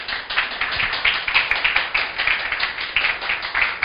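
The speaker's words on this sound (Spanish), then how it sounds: "Aplauda al Señor." A church congregation clapping together in a steady, fast rhythm, dense and fairly loud, with no talk over it.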